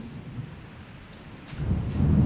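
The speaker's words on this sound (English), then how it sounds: "Ooh, it's stormy, Claire. There's a thunderstorm" Steady rain falls while a low rumble of thunder swells louder toward the end, a brief stretch of storm in Austwick village, Yorkshire Dales, with no voices.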